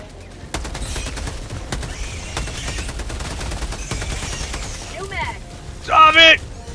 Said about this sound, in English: let's see what this shotgun can do